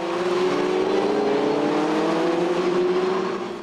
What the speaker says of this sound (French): Derrière, c'était nettement plus chaud avec une très belle bagarre opposant notamment Manu Nava sur la numéro 129, Didier Van Dalen sur la 255, Laurent Richard sur la 264 et Michel Simul